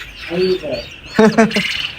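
Several birds squawk and call close by in short, harsh bursts inside a coop, a few overlapping cries in quick succession.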